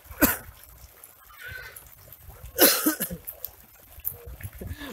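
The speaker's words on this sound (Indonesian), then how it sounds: "Sorry gua batuk." A person coughs twice at an outdoor waterpark, each cough a short, sharp burst close to the listener, with quiet background noise between.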